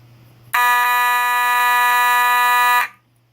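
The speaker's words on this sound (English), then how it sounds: "let's do drill mode. Let's open the pull station and flip the switch down." Fire alarm set to drill mode after a pull station is activated, blaring a loud, steady electronic horn tone for about two seconds before cutting off abruptly, with nothing else heard.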